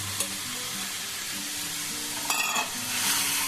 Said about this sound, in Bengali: দেখুন মশলা ভাজা হচ্ছে, আর একটুখানি সময় নিয়ে ভেজে নিতে হবে।